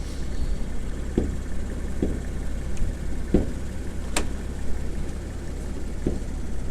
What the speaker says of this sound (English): the V6 engine, as you can see here. 3-liter.